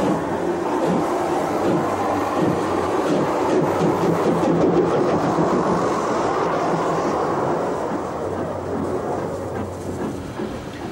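A Southern Railway steam locomotive runs on the Swanage Railway, producing a loud, steady rumble with rolling wheel and rail noise throughout and no speech.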